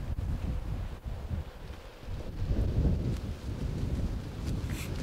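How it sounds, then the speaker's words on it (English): Strong wind buffets the microphone outdoors, a low, rumbling roar that surges and eases in gusts with no talking. "It's so windy."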